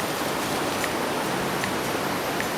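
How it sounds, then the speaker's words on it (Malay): Steady rushing water of a strong, clear river beside a campsite in Perak, Malaysia, a dense, even roar with no pauses, close and loud throughout. "Bunyi sungai kuat sangat"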